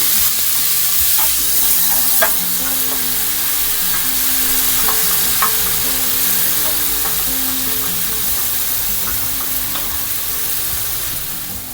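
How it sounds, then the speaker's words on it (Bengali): Tomatoes tossed into sizzling fried garlic and onion in a pan crackle with a loud, continuous frying hiss, broken by scattered stirring clicks and scrapes throughout. "গার্লিক পেঁয়াজ ভুনা হয়ে গিয়েছে, এখন দিয়ে দিচ্ছি টমেটো।"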